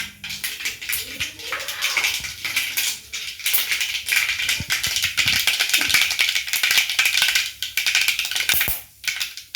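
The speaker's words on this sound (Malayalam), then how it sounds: "കടുക് പൊട്ടിയ ശേഷം" Mustard seeds splutter in hot oil while a tempering is made for idli and dosa sambar, giving rapid, irregular crackling pops that rattle on and off through the whole stretch.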